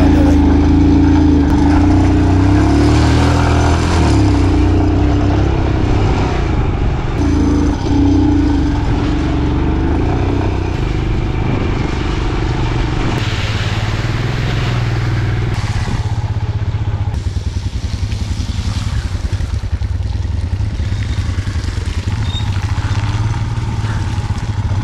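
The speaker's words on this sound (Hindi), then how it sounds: "तो हमने क्विकली बाइक पर बैठी और" Motorcycle engine while riding through Spiti Valley between Kalpa and Kaza, a loud, steady rumble with shifting revs and rattling for about twenty-five seconds, heard up close.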